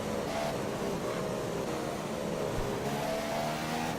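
McLaren Honda Formula 1 engine in a racing game at the Chinese Grand Prix, a steady high-pitched drone that holds at a constant level for a few seconds with no talk.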